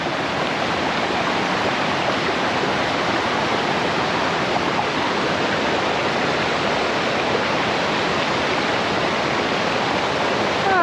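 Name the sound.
small waterfall flowing over rocks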